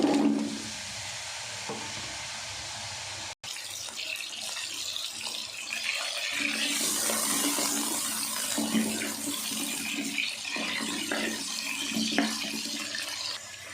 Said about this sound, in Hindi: सबसे पहले हम आलू फ्राई कर लेते हैं।